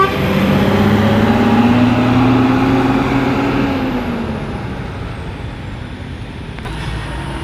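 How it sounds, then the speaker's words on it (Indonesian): A Mustika economy air-conditioned bus pulls away from Tidar bus terminal in Magelang, its loud diesel engine rising then fading steadily as it departs amid terminal traffic noise. "Bis Mustika AC Ekonomi berangkat dari Terminal Tidar mengarah ke Semarang."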